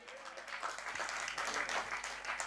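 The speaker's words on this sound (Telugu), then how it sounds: "చప్పట్లు కొట్టండి." A church congregation claps together during a sermon, a dense, continuous patter of many hands at moderate loudness filling the space for a couple of seconds.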